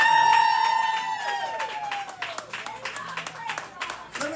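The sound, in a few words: crowd of opposing rabble-rousers at campaign event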